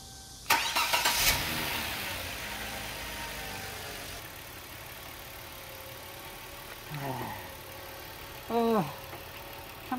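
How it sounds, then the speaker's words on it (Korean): A car with a suspected throttle valve problem cranks and starts with a loud burst, settles into a steady idle, and is then revved briefly twice near the end. "그러면 시동을 걸고 한번 체크를 해 봅시다."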